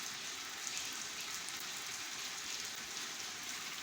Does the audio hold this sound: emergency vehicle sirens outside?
no